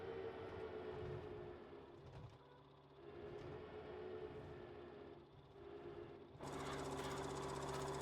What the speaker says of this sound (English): Oh, so from the outside it does have a sound. It's probably a fan.